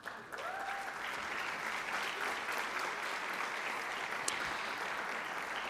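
Steady applause from an audience at a high school senior recognition night, sustained and fairly even throughout as students come to the stage.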